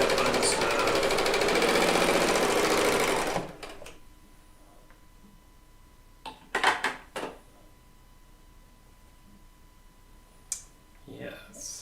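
A serger sewing machine runs steadily as quilt fabric is chain pieced, a loud continuous whirring burst for about three seconds, then stops, followed by quieter clicks, handling noises and brief talk.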